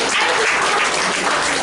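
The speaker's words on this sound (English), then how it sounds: "That's where the applause would go." A crowd applauds after a coach's farewell speech, a brief burst of steady dense clapping.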